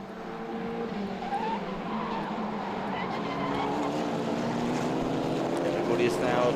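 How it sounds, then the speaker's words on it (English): Formula race cars corner flat out at the Hungaroring in an ACCR Czech Formula 1 race, engines droning steadily with tyres squealing under the pack, while a commentator talks over the continuous track noise. "You hear the tyres squealing, you see the puffs of smoke here and there as everybody's trying to corner flat out."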